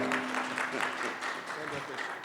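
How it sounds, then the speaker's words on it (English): A conference audience at an India–Canada investment event applauds its panelists, a soft, fairly distant wash of clapping with a talking voice running over it throughout. "let's give a round of applause to every panelist"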